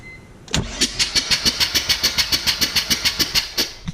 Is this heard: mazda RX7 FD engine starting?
yes